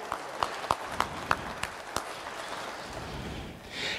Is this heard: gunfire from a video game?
no